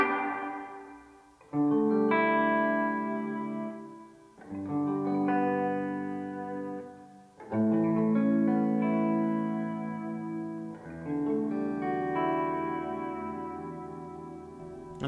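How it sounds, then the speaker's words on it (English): Guitar through a Blackstar HT-5RH amp with digital reverb turned up full: four strummed chords rung out one after another, each blooming into a long, lush wash of reverb that sustains and slowly decays before the next. "With the reverb up full,"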